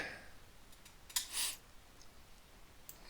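A single mouse click while adding an asset in Unity, a sharp faint tick followed by a brief soft rustle, alone in a quiet room.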